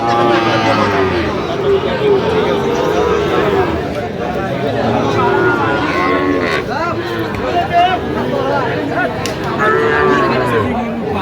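Shahiwal bulls and other cattle low repeatedly at a busy livestock market in Chattogram, close and loud, over constant crowd chatter and bargaining voices.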